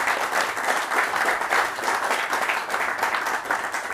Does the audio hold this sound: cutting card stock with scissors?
no